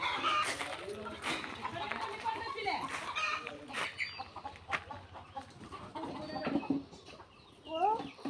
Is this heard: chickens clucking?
yes